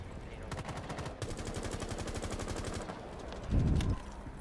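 Rapid automatic gunfire from a weapon in Rainbow Six Siege, a long sustained burst of close, evenly spaced shots, a brief pause, then a louder blast near the end.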